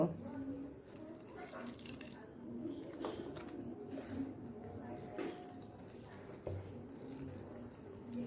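Water trickles gently into a spiced batter for homemade aloo chop, with soft wet mixing and splashing sounds at low, steady level, close by.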